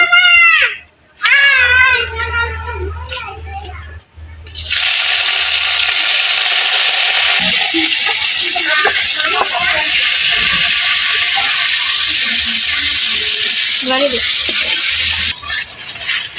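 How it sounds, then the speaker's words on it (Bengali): Spices with cumin seeds frying and being sautéed in a pan: a loud, steady, hissing sizzle rises suddenly after a voice and runs to the end, with people talking over it. "তো এদিকে মশলাটা কষায় নিতেছে"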